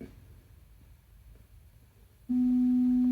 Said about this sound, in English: This is one of my standard test tones.